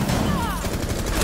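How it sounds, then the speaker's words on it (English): A full-auto shotgun firing in Rainbow Six Siege, a loud continuous roar of rapid blasts filling the short clip without a pause. "Thanks to the full auto shotgun."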